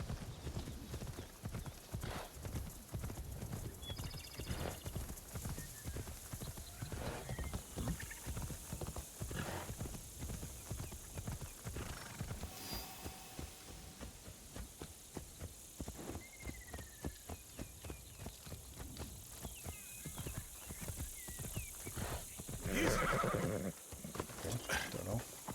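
Steady clip-clop of horse hooves at a trot while riding in the video game Assassin's Creed Shadows, continuous across the clip, with a few brief neighs, faint crickets in the background and a voice talking intermittently over the hoofbeats.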